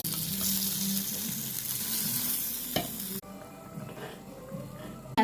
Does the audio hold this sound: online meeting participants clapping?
no